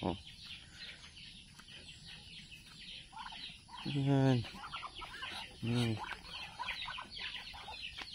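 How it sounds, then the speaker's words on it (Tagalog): Two bursts of loud, nasal duck quacking, the second shorter, over a background of steady chatter and rustling. "tingnan yung mga pato"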